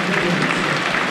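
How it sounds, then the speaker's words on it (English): A stadium crowd at a Premier League match between Manchester City and Arsenal applauds in memory of a club figure, producing a brief, dense, continuous wash of clapping. "a period of applause to remember Sir Howard Bernstein"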